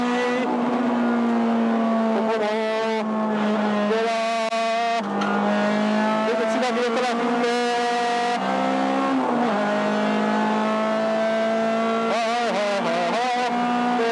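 A stripped-out Honda Civic EK4 with a swapped B18C engine laps Okayama circuit. Heard from inside, the engine screams at high revs and its pitch climbs and drops sharply with each gear change.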